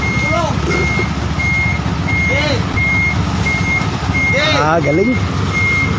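A truck backs up with its reversing alarm beeping steadily at an even rhythm over a low idling engine, while someone talks and whistles nearby.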